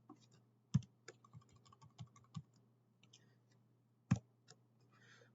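Computer keyboard typing comes as sparse, close clicks and taps, a cluster of keystrokes early on, then a pause and a couple of sharper key hits, over a low steady hum.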